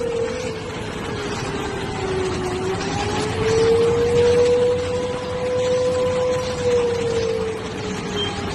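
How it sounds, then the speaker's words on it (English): A distant air-raid siren in Pakistan wails steadily, its tone slowly rising and falling over a constant background hum. "those are sirens going off in Islamabad, in Lahore, in Sialkot, many other towns"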